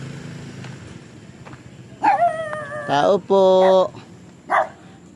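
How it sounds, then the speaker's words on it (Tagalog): A dog barks several times in short loud bursts at a house, close by, after a person calls out at the gate. "Ay, may aso."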